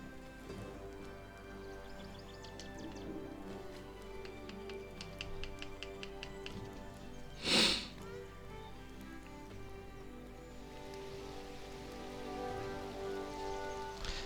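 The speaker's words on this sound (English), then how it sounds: "So it rains now." Rain falls in the video game Outward: Definitive Edition, a soft, steady patter with ticking drops under quiet game ambience and a brief louder burst midway, with no talk.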